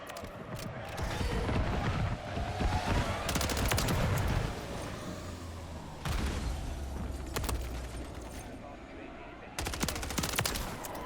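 MTZ-556 assault rifle fire in Modern Warfare III, loud sustained automatic bursts with brief pauses, interspersed with other in-game gunfire and explosions.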